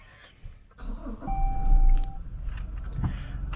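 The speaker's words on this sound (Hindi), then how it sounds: "चलें गाड़ी को हम स्टार्ट कर लेते हैं।" A 2022 Toyota Hilux Revo V automatic with a 2.8 D-4D diesel is push-started: a few electronic chime tones sound, then the engine cranks and catches into a low, steady idle rumble close by.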